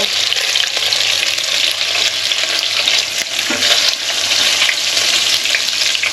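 Chicken and pork pieces brown in a pan for Filipino adobo, giving a loud, dense, continuous sizzle close by with faint stirring, and no pauses.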